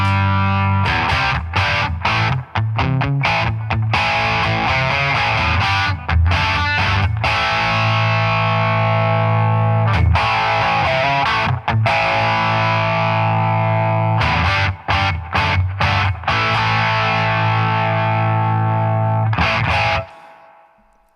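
An electric guitar runs through a Rodenberg BL Deluxe British Legend amplifier pedal into a Marshall, giving a driven, crunchy tone over about twenty seconds of continuous loud riffing with brief stops, ending in a fade.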